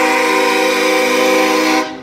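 A Ford F-250 truck blasts its loud train horn in one long, steady, multi-tone chord that cuts off abruptly after about two seconds at a SEMA show parade.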